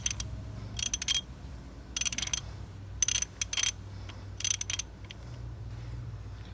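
A ratchet loosens the ignition coil bolt on a 2008 Pontiac G6 2.4-litre engine in four close bursts of rapid clicking, separated by short pauses.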